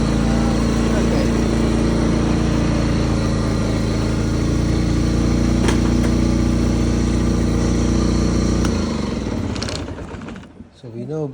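A restored Honda HT3813 lawn tractor engine runs at a steady, loud idle close by, then abruptly cuts off near the end, leaving faint rattling.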